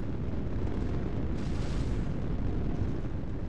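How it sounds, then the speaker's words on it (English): A ship takes weapon fire in a space combat game, a dense sustained rumbling blast that fills the whole stretch, loud and unbroken. "We lost a module. We took a hit."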